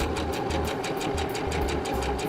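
Sewing machine stitching a drawstring bag, its needle running at a fast, even pulsing rhythm, close and alone without any talk.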